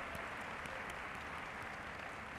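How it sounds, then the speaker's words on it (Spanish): Audience applause in the hall at the 2023 Latin Grammy Awards ceremony, a steady, even wash of clapping heard at a distance and fairly faint throughout. "Un aplauso de nuevo, por favor."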